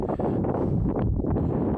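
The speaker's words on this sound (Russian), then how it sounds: "ветер тут, смотри, такой порывистый" Gusty wind buffets the microphone on an open mountain road toward Jebel Shams in Oman, a steady broadband roar and rush close and loud throughout, with no talk.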